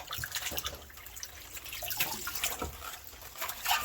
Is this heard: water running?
yes